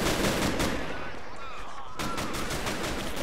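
Tank cannons and small-arms fire crackle through a Men of War Assault Squad 2 battle, a dense, continuous barrage of overlapping shots with a sharp burst near the two-second mark, loud and close throughout.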